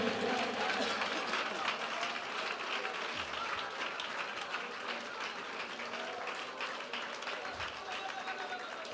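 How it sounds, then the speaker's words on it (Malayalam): Applause and clapping rise from a congregation during a Malayalam Christian healing sermon, a dense, steady wash of many hands filling the hall, with a voice speaking over it. "കൈയടിക്കുന്നെങ്കിൽ നേരെ കൈയടിക്കണം കുഞ്ഞേ."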